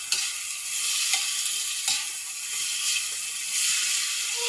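Bitter gourd and tofu are stirred in a hot pan, a continuous bright sizzle broken by a few scraping strokes of the spatula, close and steady with no voices.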